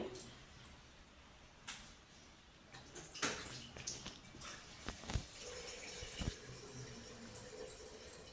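Lentils being washed in water in a home kitchen, with quiet splashing, swishing and a few sharp clinks and taps of a vessel, close and fairly soft.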